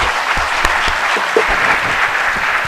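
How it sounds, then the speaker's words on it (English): Brief, loud audience applause follows a guest lecture, a dense crowd of clapping with a few thumps and rustles close by. "I think it truly deserves a big applause for its wonderful work."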